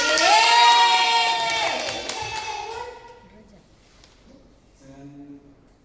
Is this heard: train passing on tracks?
no